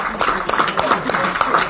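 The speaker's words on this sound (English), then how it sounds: "a round of applause there being given to the Walthamstow players as they take the trophy" A crowd claps for the Walthamstow football players as they take the Caelan Dennis Memorial Cup after a friendly, a dense patter of applause at moderate distance, with a commentator's voice over it.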